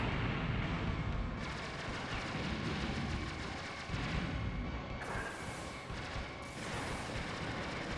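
Booming bomb explosions from the arcade shooter Aero Fighters, played in co-op, roll as dense, continuous low rumbles and blasts, loud and sustained throughout with no talk.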